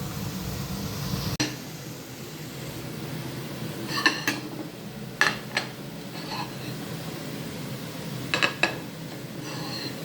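Dishes and cutlery set out on a kitchen breakfast table, scattered clinks and light clatters of plates and utensils, moderately close, over a low steady hum with no talking.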